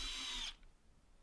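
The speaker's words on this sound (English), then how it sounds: "I'm screwing these screws directly into softwood" Black+Decker BCD700S 18V cordless combi drill driving a 50mm drywall screw into softwood, a brief whirring motor buzz heard close up that cuts off abruptly after half a second, leaving near silence.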